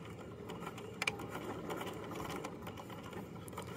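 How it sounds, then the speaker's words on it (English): A sewing machine stitching and backstitching a fabric seam, running as a steady close mechanical whir with one brief clunk early on, without speech. "I'm going to sew down to the edge and backstitch again."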